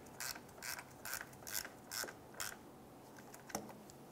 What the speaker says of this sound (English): Let's get our lower cooling fan bolts in.